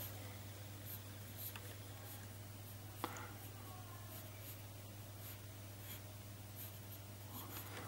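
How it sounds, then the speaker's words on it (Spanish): A pencil scratches faintly across paper while a geodesic dodecahedral sphere is sketched. Soft intermittent strokes sit over a steady low hum, with one sharp tick partway through. "Para eso utilizamos el lápiz."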